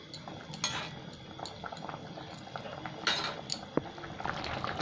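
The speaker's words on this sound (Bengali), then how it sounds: "এবার খুব ভালো করে এটা ফুটবে।" Bengali fish curry, maacher jhol, bubbles steadily in a pan, a soft continuous simmer with scattered pops and a few light clinks of metal.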